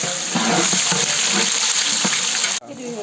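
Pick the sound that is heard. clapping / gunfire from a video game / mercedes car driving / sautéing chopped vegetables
sautéing chopped vegetables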